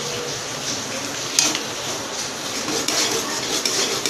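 A spoon stirs and scrapes through chole masala in a metal pan, with a few distinct clinks and a faint sizzle under a steady background hum, no talking.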